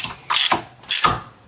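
A ratchet wrench snugging 5/8-inch, 16 mm bolts while an electric aircraft tug is assembled, two quick bursts of sharp clicking, close and clear, with no voices.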